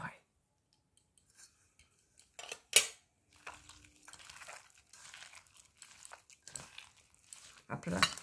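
Mashed roasted eggplant (begun pora) is kneaded by hand with mustard oil and salt, giving soft, sporadic squishing and crinkling bursts separated by quiet pauses.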